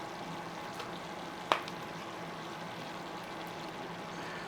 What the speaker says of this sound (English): we want to be going in with some onion paste